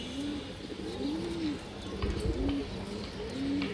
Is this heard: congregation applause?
no